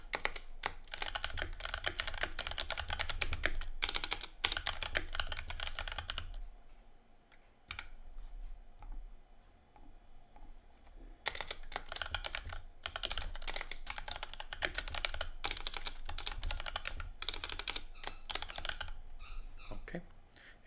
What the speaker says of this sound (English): See, you can type just a simple email.